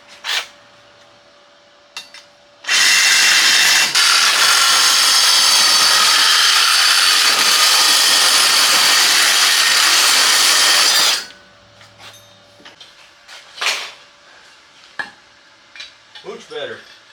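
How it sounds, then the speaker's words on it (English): A power tool cuts an exhaust pipe for a 1972 Chevy C10 held in a vise, a loud close grinding whine that runs continuously for about eight seconds. Brief clanks and handling noises come before and after it. "I'm actually just going to cut it right there so it's square."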